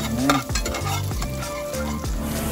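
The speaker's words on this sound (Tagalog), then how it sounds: "Isunod po yung garlic. Igisa po natin" Garlic sautéing in hot oil in a casserole pot, a steady close sizzle with repeated stirring scrapes and soft clinks, with music playing throughout.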